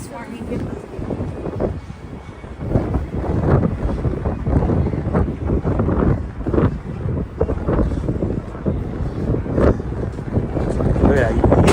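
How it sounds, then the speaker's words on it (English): Wind gusting between the tall buildings of Hudson Yards in Manhattan, a steady loud roar buffeting the microphone for the whole stretch, with a voice talking over it. "It is always a wind trap inside Hudson Yards."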